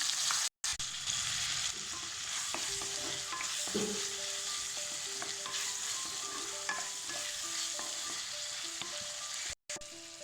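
Onion, garlic and tomato fry in a pan with a steady, close sizzle, broken now and then by soft stirring scrapes and clinks; no one speaks.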